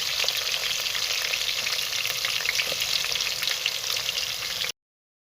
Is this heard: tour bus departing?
no